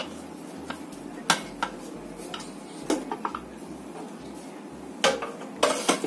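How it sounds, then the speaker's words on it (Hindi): A pressure cooker lid is opened while making vegetable soup in a home kitchen. It gives scattered metallic clinks and clatters, a few louder knocks among them, over a faint low hum. "अब हम सूप बनाने के लिए हम अपने कुकर को खोलेंगे।"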